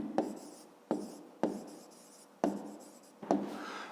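Pen writing on paper during a math exercise, with five distinct strokes, each a sharp start trailing into a soft scratchy rub, close and quiet, no voices.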